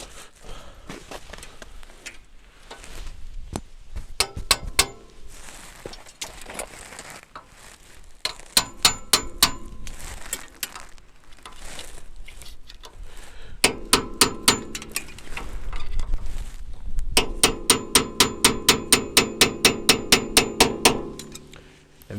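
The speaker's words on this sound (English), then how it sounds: "we're just going to tighten that locking nut down" Metal hand tools work a locking nut on a Ford F150's adjustable coilover, sharp repeated hammer-like clanks and rapid metallic strikes in bursts, loud and close with no talk.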